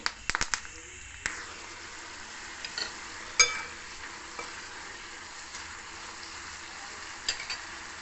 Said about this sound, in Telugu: జీలకర్ర మినపప్పు వేస్తాము కూరల్లో ఇంకా వేరే కారం వేయం కాబట్టి ఎండుమిరపకాయలే ఎక్కువ వేస్తాను అలాగే కరివేపాకు